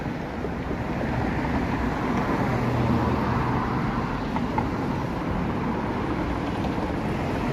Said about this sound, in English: There's the Bathurst bus.